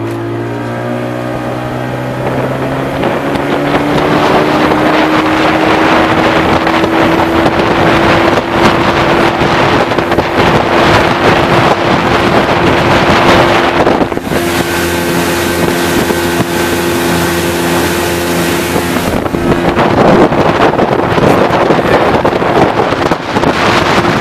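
A 1990 Evinrude 25 HP outboard motor runs at full throttle on a lake, a loud steady engine whine that rises in pitch as it opens up and then holds, with wind buffeting the microphone throughout.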